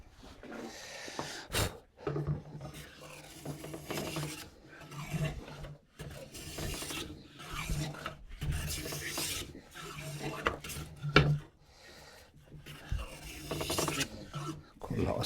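A hand plane shaves a wooden dog gate part, one side first and then down the middle, giving repeated rasping strokes in close bursts separated by short pauses, with no talk.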